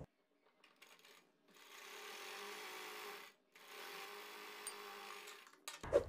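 A sewing machine stitches a pintuck collar on a kurti in two fairly quiet, even runs separated by a brief pause, ending with a sharp knock.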